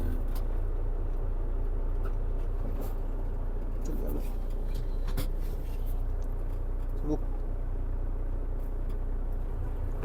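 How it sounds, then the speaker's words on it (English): A tractor-trailer truck's diesel engine idles steadily after starting, a constant low rumble throughout with occasional faint clicks and knocks in the cab. "Okay, so we have started the truck."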